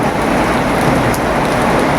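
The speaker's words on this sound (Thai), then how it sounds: "ฝนตกไหมคุณ กระทบฝน" Heavy rain pours down in a loud, dense, unbroken hiss of drops striking surfaces, close and steady throughout with no speech.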